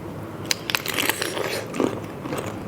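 Crunchy bites into cannonball jellyfish dressed with spicy seafood dipping sauce, a few crisp close-up crunches and chewing with no talking.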